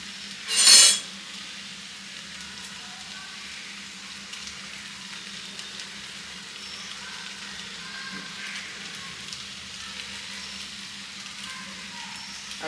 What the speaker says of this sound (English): And all I'm going to do is mix it.